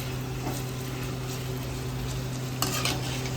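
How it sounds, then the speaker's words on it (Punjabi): Round gourd (tinde) and vegetables with red chilli being stirred with a ladle in a pan: a steady low sizzle, with a brief scrape of the ladle near the end. "ਫਿਰ ਇਹਨਾਂ ਨੂੰ ਕੜਛੀ ਦੇ ਨਾਲ ਹਿਲਾਉਣਾ"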